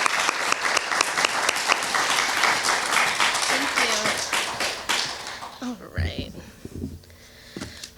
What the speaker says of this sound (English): giving a round of applause to Juliet and welcoming her up to the podium